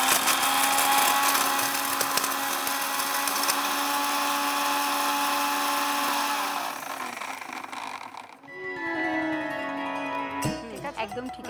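A kitchen grinder whirs loudly and steadily as it grinds dry whole spices such as cinnamon and bay leaf, running for about eight seconds before winding down, followed by softer clatter and handling.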